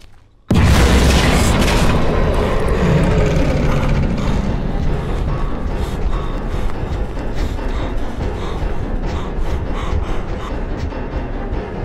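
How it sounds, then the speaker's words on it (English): In the horror video game Rotten Flesh, a creature bursts through a door with a sudden loud boom that crashes in after near silence. Heavy rumbling, clattering and mechanical noise follow and keep the level high. "when it burst through the door"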